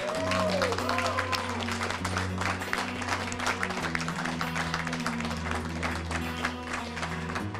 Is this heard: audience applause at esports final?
yes